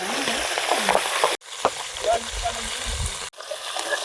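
Large pieces of katla fish fry in hot oil in a pan, giving a steady close sizzle broken by brief gaps, with soft stirring and someone speaking over it.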